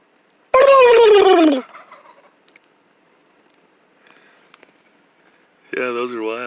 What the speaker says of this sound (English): See the tom turkey? He's gobbling.